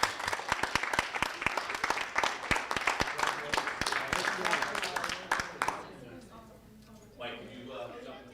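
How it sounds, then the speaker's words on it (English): An audience applauds at a school board meeting to congratulate a state championship girls indoor track team, dense clapping for about six seconds before fading into a quieter room with murmured talk. "Please join me in one final congratulations and round of applause"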